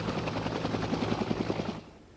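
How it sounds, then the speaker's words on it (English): Helicopter flying toward Cherokee during a blizzard, a steady loud rotor chop with rhythmic thumping that fades off near the end. "This helicopter heads toward Cherokee"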